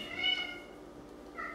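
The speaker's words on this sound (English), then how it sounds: "could you get rid of that cat, please?" A cat meows faintly in the background, a drawn-out cry followed by a second shorter one, quiet and somewhat distant in an indoor room.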